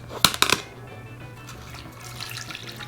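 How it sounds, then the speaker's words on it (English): Marsala wine is poured into a pot of braised short ribs: a quick splashing pour comes in the first half-second, then fades to a faint trickle against a quiet kitchen hum. "Now we can put in our Marsala"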